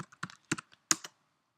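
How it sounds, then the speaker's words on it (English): Keys tapped on a Mac computer keyboard while typing a terminal command, a few quick close clicks in short clusters, then quiet. "Let's type in get again."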